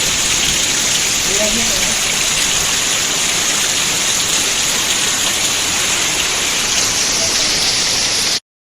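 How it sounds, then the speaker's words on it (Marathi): Heavy rain pours down on a Konkan rice-farming homestead, a loud, dense, unbroken hiss of water that stays steady until it cuts off abruptly at the end. "बघा मित्रांनो किती जोरात पाऊस आलेला"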